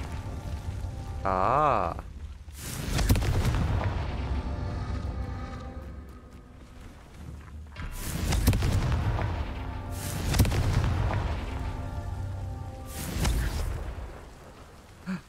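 Confringo fire blast spells in Hogwarts Legacy set off a series of loud, booming explosions, four or five heavy blasts spread out with rumbling tails, and a brief voice exclaims between them.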